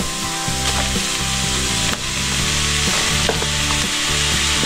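Onion, carrots and mushroom frying for japchae, a steady loud sizzle with stirring and scraping in the pan, over music, with no talk.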